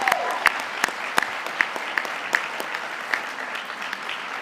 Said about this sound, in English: the students deserve to give you a great round of applause